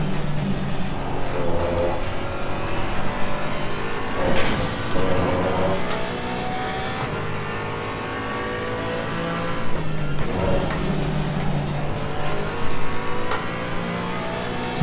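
A Porsche Cayman GT4 in Assetto Corsa Competizione, engine note rising and falling through gear changes and cornering with faint tyre scrub; loud, close and continuous, no voices.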